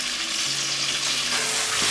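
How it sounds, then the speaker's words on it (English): Sliced tomatoes sautéing and sizzling in a pan for chicken biryani, a steady close frying hiss with faint stirring clatter throughout. "Now I'm adding sliced tomatoes."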